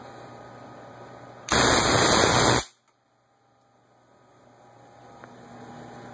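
Tesla coil tuned for disruptive discharge, firing through its spark gap with no air blown across it: a loud, dense crackling buzz lasting about a second, stopping abruptly into near silence.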